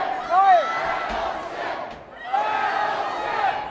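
A crowd at a cage fighting match shouting and chanting in two surging waves, voices rising, dipping briefly, then swelling again.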